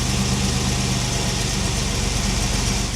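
A 1987 Buick GNX with its turbocharged V6 idles steadily, a deep, even engine rumble that holds loud and close without pause for the whole stretch.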